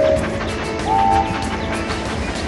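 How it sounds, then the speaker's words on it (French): A locomotive from a Thomas and Friends video game rumbles steadily with a dense, loud mechanical drone, a brief tonal whistle-like note sounding partway through, and no voices. "Dirige ta locomotive dans les virages serrés."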